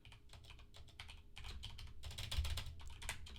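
Rapid, continuous clatter of keys on a computer keyboard during a typing game, close and steady with bursts that grow a little louder partway through, no voices.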